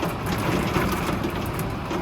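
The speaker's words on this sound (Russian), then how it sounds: "Ух ты, град, ребята." Hail and rain pelting down during a storm at a cable car station on Kok Tobe in Almaty, a steady dense broadband roar of impacts close by, continuous and loud with no breaks.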